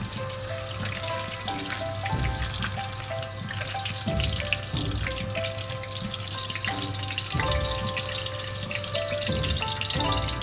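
Steady crackling sizzle of spices and aromatic vegetables frying in oil for Cantonese chili oil, continuous and fairly close, with a low background hum throughout.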